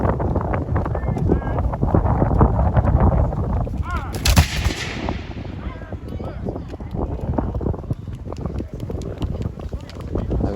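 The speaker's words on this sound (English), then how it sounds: "And this is the actual first time this gun was ever fired right here." A newly built black-powder gun is fired for the first time at a Revolutionary War battle reenactment at Ninety Six, South Carolina: one loud boom rises over outdoor wind noise, and people talk around it.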